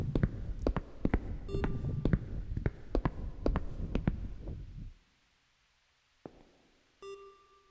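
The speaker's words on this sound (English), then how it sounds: "I heard a beep." Two short electronic beeps sound, one early and one near the end, clear against a steady run of soft thumps and clicks that stops abruptly, followed by near silence.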